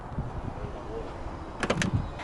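A Porsche 993 door on a crashed car gives a quick mechanical clunk and latch rattle near the end, following a stretch of low shuffling and handling noise close by.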